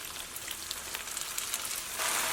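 Water hits a hot wok of stir-fried sweet potato starch noodles with carrot, giving a steady close sizzle that swells louder near the end, with no talking.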